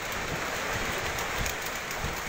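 Steady rain falls outdoors during a diving course, a continuous soft hiss of drops with faint low rumbles underneath and no voices.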